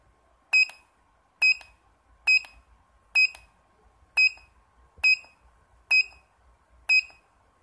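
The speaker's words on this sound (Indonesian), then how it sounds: "Dan buzzer akan menyala selama 5 detik." An Arduino buzzer sounds eight sharp, evenly spaced electronic beeps, loud and clear against near silence.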